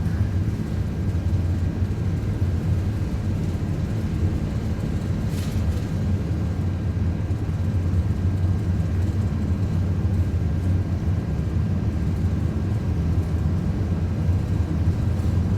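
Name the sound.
Airbus A330-200 engines at takeoff thrust, flight simulator game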